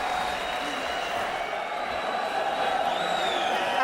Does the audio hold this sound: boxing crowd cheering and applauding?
yes